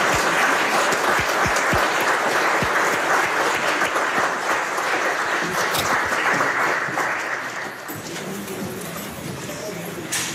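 A congregation at a baptism in a Québec church bursts into dense, sustained applause that carries on for several seconds and then thins and fades toward the end.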